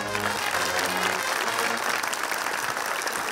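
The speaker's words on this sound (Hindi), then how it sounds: "इनके लिए तालियां" A studio audience at a comedy talk show claps in continuous, dense applause throughout, fairly loud and close, with traces of voices and music underneath.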